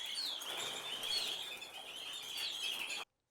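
Several small birds chirp and tweet in quick, overlapping high calls with flutters of movement, a steady busy chorus sounding fairly close and lasting about three seconds before cutting off.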